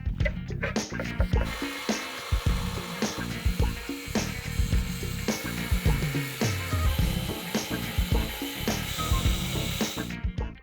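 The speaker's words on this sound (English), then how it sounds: "I'm about to cut this thing into pieces and just turn it into basically a washer and take the eccentric part off using the death wheel" A cut-off wheel slices through a metal eccentric engine part in a home garage, giving a continuous, harsh, gritty grind with repeated catches and clicks throughout, fairly loud and close.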